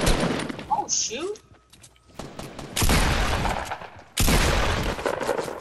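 Fortnite gunfire, with long bursts of rapid, loud shots in two sustained volleys after a short quieter stretch, while a voice talks at the start.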